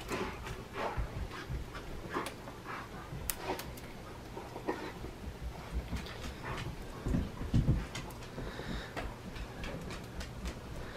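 A dog panting in a back room of a home, a soft, steady rhythmic breathing heard from a short distance over low room noise, with a few faint thumps and rustles.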